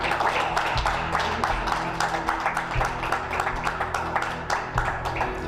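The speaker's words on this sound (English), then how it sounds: "can we just rise and just give her a round of applause?" A standing audience gives a woman a sustained round of applause at a leadership event for women, dense steady clapping over a low hum that carries on without a break.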